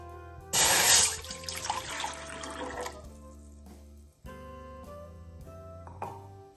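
Water is poured into a pot set on a gas stove while cooking red pasta: a loud, close splashing gush of about two seconds that then tapers off, with a steady tonal hum underneath.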